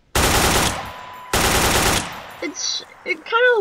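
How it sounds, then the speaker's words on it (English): AK-47 automatic gunfire in a video game weapons mod, two loud sustained full-auto bursts up close, followed by brief clinks and a short voice. "It's kind of what you would expect from a AK-47. It doesn't shoot really quick. It has a good sound"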